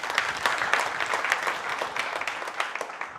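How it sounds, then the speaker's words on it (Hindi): An audience at a public gathering in Delhi breaks into loud, sustained applause, the clapping dense and uneven for a few seconds with no talking over it. "के लिए जोरदार तालियां हो जाए एक बार।"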